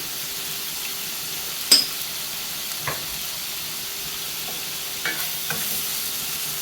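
Onions sautéing with salt in a pan for a homemade chicken curry, a quiet low sizzle broken by a few sharp spoon taps and scrapes against the pan.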